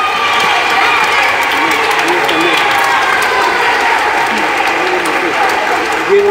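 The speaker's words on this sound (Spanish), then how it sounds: "Amel, un aplauso para Amel." Sustained crowd applause for a performer named Amel at a concert in a shrine, dense and steady for the whole stretch with faint cheering in the mix.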